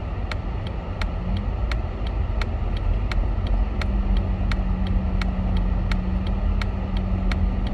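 Steady road noise from a vehicle driving with a truck alongside a car, a continuous broadband rumble with a faint low drone and a regular ticking, like a turn signal, running throughout.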